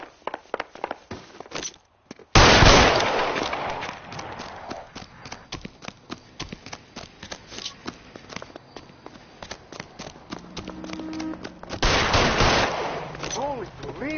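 Gunfire in LA Noire, with rapid repeated shots in dense bursts, near and loud, marked by a few heavy blasts and running hoofbeat-like thuds, while voices shout over the shooting.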